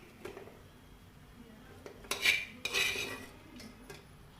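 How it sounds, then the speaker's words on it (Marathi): Cooked rice being scooped from a pressure cooker into a tray while making chicken layered biryani, with sporadic metal scrapes and clinks of a spoon against the pots, a couple of sharper clatters midway. "असा भात आपण सगळा सुट्टा करून परातीत काढून घेऊया सगळा भात कुकरमधला"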